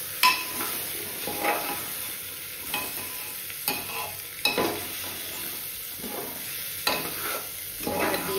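Rice and lentils are stirred into fried vegetables in a pot to make khichdi, with a constant sizzle of frying and repeated scraping strokes of a spoon against the metal pot, each stir sharp and close.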